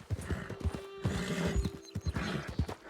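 Horses whinny and neigh in a Wild West role-play video game, a few loud, close calls over steady clip-clopping hooves, with brief gaps between the bursts.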